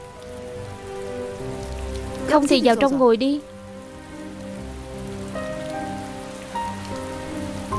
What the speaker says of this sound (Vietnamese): Mưa to như vậy có thể sẽ trễ giờ đấy.